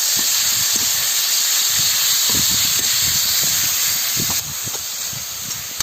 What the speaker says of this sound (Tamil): வெங்காயம், தக்காளி, அப்புறம் புதினா, கொத்தமல்லியை போட்டு அப்படியே கொஞ்சம் லைட்டா வதக்கிப்போம்